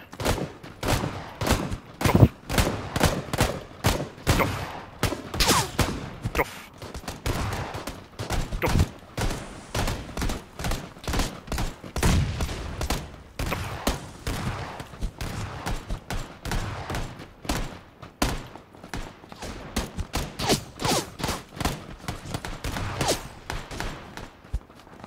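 Gunfire in PlayerUnknown's Battlegrounds crackles almost without a break, with rapid volleys and single shots of varying loudness that layer into a dense, continuous barrage.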